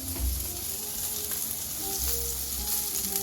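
Steak sears in hot oil in a pan, giving a steady, loud sizzle and crackle that runs the whole time with a few low bumps as the meat is shifted around.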